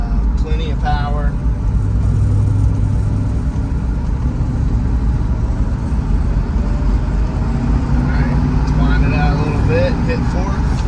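A 1968 Shelby GT350 with a V8 and four-speed manual pulls in third gear, a loud steady engine drone heard from inside the car, with a person talking over it.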